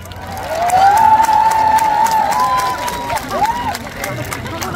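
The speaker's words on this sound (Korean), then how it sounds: "여러분! 군위 시민 여러분! 박수와 함성 크게 보내주세요!" At an outdoor trot music festival in Gunwi, a crowd cheers and claps, with a sustained high shout or whistle rising over the steady roar of applause and babble, then a few scattered yells as it continues.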